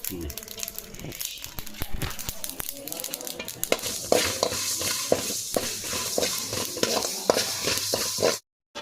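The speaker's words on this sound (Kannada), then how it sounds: "ಸಾಸಿವೆ ಪಟ ಪಟ ಇಂಗು" Mustard seeds splutter and crackle in hot oil for a tempering with asafoetida, a dense run of sharp pops over a steady sizzle that continues until an abrupt stop near the end.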